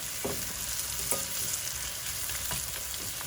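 Mushrooms sizzling in oil in a pan for risotto, a soft, steady frying hiss with a few light stirring scrapes at intervals, fairly quiet and close.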